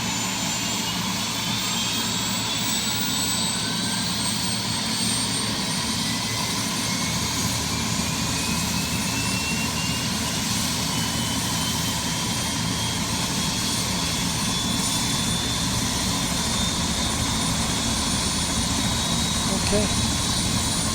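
Simulated Bell 407 helicopter turbine at idle in X-Plane 12 holds a steady whine over a low rumble, with rising and falling tonal sweeps, while someone talks over it throughout.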